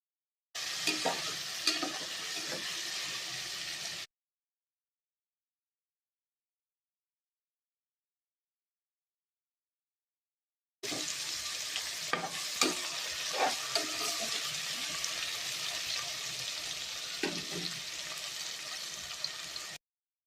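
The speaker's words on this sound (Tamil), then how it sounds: "இப்போ தக்காளியை நல்லா வதக்கிக்கலாங்க" Tomatoes sauté in a pan for spicy vegetable biryani, a steady close sizzle with stirring scrapes in two stretches separated by several seconds of silence.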